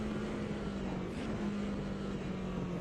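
BMW 2002 Turbo engine droning steadily in Automobilista 2 at Hockenheim 1977, a continuous mid-level hum with a faint rise and fall of revs, no talk over it.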